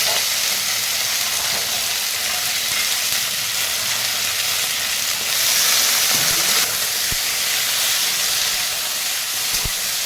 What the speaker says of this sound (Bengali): কুমড়ো কুটোটা একটু হালকা ভাজা হয়েছে